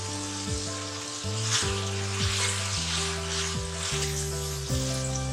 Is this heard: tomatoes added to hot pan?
yes